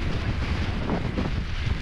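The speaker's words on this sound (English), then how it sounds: "And it's even worse, the wind now." Strong wind on a stormy hillside camp in the Cheviots roars and buffets the microphone in a loud, continuous gusting rush.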